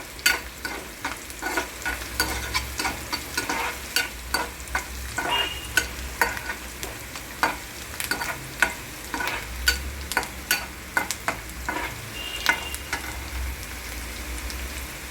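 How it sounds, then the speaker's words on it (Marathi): Onion frying in a pan for a white radish and greens dish gives a steady close sizzle, broken by regular sharp scrapes and taps of stirring about every half second. "आता आपण कांदा भाजायला टाकलेला आहे"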